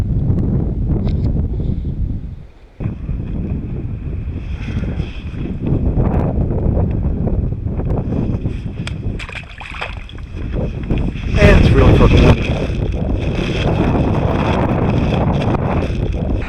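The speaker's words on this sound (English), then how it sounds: "It's really windy." Strong wind roars steadily into the microphone on a Florida coast, buffeting with gusts and a louder blast near the end, with water sloshing faintly beneath.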